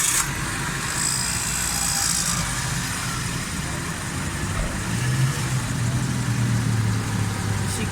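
A Suzuki Alto 1000cc car with a fuel consumption fault (about 6 km per litre) runs with a steady mid-pitched engine hum under someone talking, holding an even idle with a slight rise near the end.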